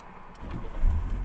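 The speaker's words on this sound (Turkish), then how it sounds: "Çalıştıralım arabamızı." Car engine starting inside the cabin during a driving lesson, with clutch and brake held down; a low rumble swells in the second half and settles into a steady idle, fairly loud and close, with no talk.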